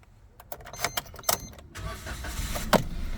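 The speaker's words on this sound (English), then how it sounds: "I'll just start the car up so you can" A 2018 Suzuki Celerio SZ4 1.0 automatic starts with a few clicks and a brief crank, then settles into a steady, quiet idle heard close up with no talk.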